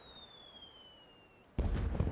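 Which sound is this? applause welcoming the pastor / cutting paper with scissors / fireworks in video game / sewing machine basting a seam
fireworks in video game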